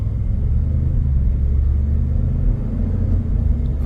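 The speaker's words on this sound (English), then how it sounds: "I like the sound of that EcoBoost." A deep, steady engine rumble from a 2026 Ford Expedition Platinum 4x4 with an EcoBoost engine accelerating, heard from inside the cabin, low and continuous with no voices.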